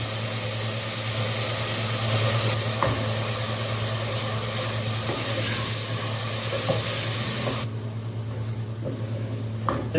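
Garlic goes into a pan of browned onions with a little water, giving a loud continuous sizzle and frying hiss with occasional stirring clatter; the sizzle drops off sharply near the end.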